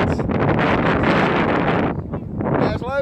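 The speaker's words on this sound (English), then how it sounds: "Bit windy. It's warm wind." Warm wind buffets the microphone outdoors at a family campsite, a loud continuous rushing roar that eases briefly before gusting again, with a voice talking briefly near the end.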